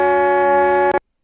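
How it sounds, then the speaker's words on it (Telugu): Horn on a bus in the mobile game Bus Simulator: Extreme Roads gives one loud, steady, buzzy blast lasting nearly a second, then a brief second stab before it cuts to silence. "మరి హార్న్ కొడదాం ఒకసారి"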